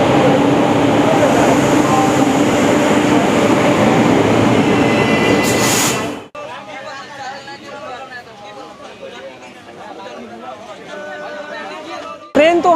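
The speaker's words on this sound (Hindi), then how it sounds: "ट्रेन तो हमारी खुल चुकी है," A moving passenger train departing Asansol rumbles loudly with steady wheel and carriage noise and background chatter, then the sound cuts to a quieter interior ambience.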